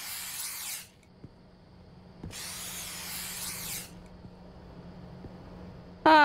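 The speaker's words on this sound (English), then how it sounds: "I had just enough spray." A spray can hisses in a convenience store video game, with two long bursts of spraying separated by quiet clicks and a brief final burst, close and alone.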